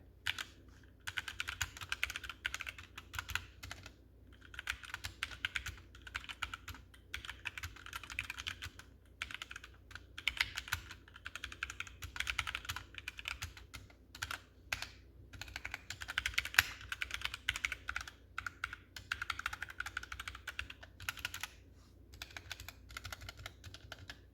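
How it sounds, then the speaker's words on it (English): Steady rapid typing on a HyperX Alloy Origins 60 mechanical keyboard with linear HyperX Red switches, dense clacking keystrokes with brief pauses, close and fairly quiet, no voices. "Now I'll do a little bit of a sound test for you on these HyperX Red switches"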